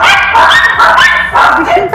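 Two excited small dogs bark and yip rapidly and loudly at close range in a family home, with a voice talking over them.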